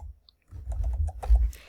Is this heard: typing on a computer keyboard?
yes